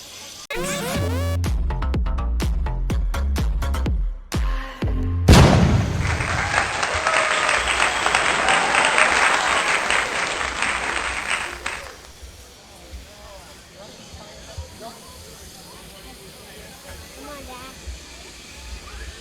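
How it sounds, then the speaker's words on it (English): On the Avatar Flight of Passage ride at Disney's Animal Kingdom, a brief burst of music gives way to a loud, dense chorus of chirping crickets that carries on for several seconds, then fades lower. "Hear all those crickets?"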